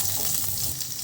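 Onion rings fry in a hot pan alongside milkfish steak, giving a steady, close sizzle with faint stirring noises throughout and no talking.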